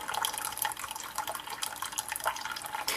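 A Keurig B60 Special Edition single-serve coffeemaker brews coffee at about 190 degrees, giving a faint, steady hiss of hot liquid streaming and splashing with scattered drips.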